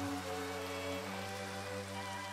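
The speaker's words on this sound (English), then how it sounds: "it is pouring rain. Absolutely pouring." Heavy pouring rain in the video game Minecraft, a steady dense wash of drops that stays loud and even throughout, with a constant low tonal hum from the game underneath and no talk.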